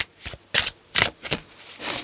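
A deck of tarot cards being shuffled by hand: several quick riffling bursts in an uneven rhythm, close and crisp, separated by short pauses, with no talk.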